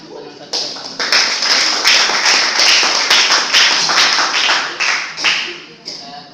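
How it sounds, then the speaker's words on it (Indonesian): Sustained audience applause at a university student project showcase, loud and dense, with steady clapping from a sizeable crowd filling the whole stretch and a few stronger swells. "Berikan tepuk tangan untuk panel 1 dan panel"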